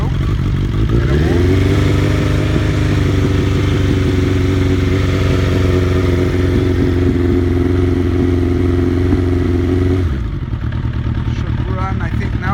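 Suzuki Bandit 1200 streetfighter motorcycle with a stubby customized exhaust can, started with a little choke on a warm day, catching after a brief crank, then running loud and close at a steady, slightly raised idle before shutting off.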